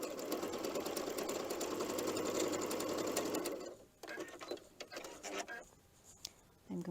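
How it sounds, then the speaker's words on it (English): Sewing machine running steadily while stitching 2.5-inch jelly roll strips for a log cabin quilt, a close continuous whir that stops partway, followed by softer handling sounds and quiet talk. "I'm just constantly just sewing on these two sides."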